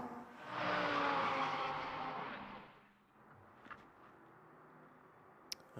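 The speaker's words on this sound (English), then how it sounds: "Here are those last couple of cars coming over the timing line now" GT race cars in the Ultimate GT Sprint Cup at Paul Ricard cross the timing line at the end of a race. One loud, close pass swells up and then fades, leaving a quieter, distant engine hum with a brief sharp blip near the end.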